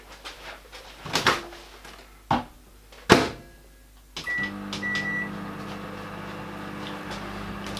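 A microwave oven runs to melt chocolate for Easter eggs, starting with a few thunks and beeps from setting it, then settling into a steady low hum with a faint whine, alone and without talk.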